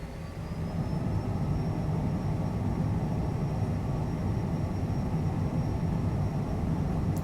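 A Cessna Citation CJ4 jet in Microsoft Flight Simulator roars steadily during its takeoff run, a loud continuous engine rumble with a faint high whine above it and no talking.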